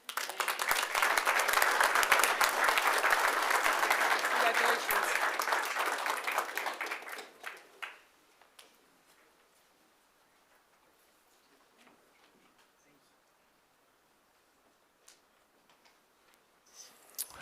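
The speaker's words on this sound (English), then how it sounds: "We get a round of applause?" A round of applause from attendees at a city council meeting, dense for about seven seconds and then dying away into a quiet room with faint scattered sounds.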